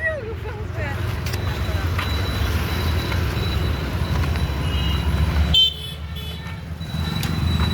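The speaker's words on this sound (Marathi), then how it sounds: "ट्रॅफिक जाम बघा. Traffic jam." A traffic jam on a road with cars and trucks, a dense, continuous rumble of engines and roadway noise with short horn toots breaking through, heard up close while people talk.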